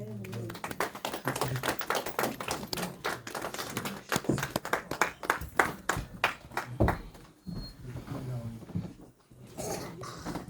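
A church congregation claps and cheers in praise, dense uneven clapping with bursts and brief lulls, a few voices mixed in near the end.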